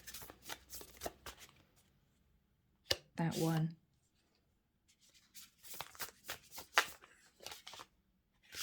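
Tarot cards shuffled in quick riffling bursts, close and crisp, with pauses between; a person speaks briefly in between.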